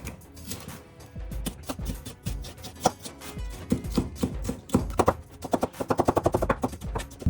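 A knife finely slices a red bell pepper on a cutting board, giving rapid, uneven rhythmic chops that build into a fast, closely spaced run near the end, heard close up without talking.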